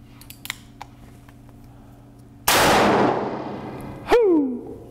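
A single loud .44 Magnum shot, a 240-grain flat-nose round, strikes body armor with a sharp blast and a long decaying ring, and a bright metallic ping sounds soon after. Faint clicks and handling noises come before the shot.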